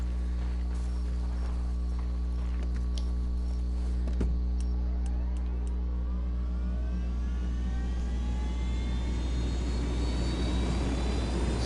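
A loud, continuous helicopter engine drone from a Metal Gear Solid or Splinter Cell video game, with rising whine and deep rumble like powering up, steady throughout with no talking.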